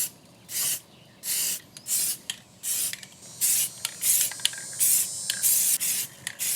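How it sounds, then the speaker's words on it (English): Spray paint is applied to a rifle magazine in a series of short, close hissing bursts, roughly a dozen sprays in a broken rhythm with brief quiet gaps between them. "Go ahead and paint that magazine there."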